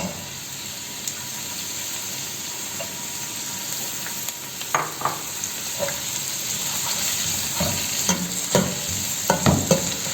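Onions frying in oil in a pan for chicken qourma: a steady, close sizzle with scattered stirring clinks and scrapes growing busier toward the end.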